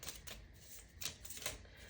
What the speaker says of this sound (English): pack up my cards and get a good shuffle going